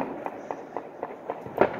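Rapid, rhythmic pops of celebratory gunfire and fireworks ring out on New Year's Eve in Albuquerque, evenly spaced reports at moderate distance, about seven in under two seconds.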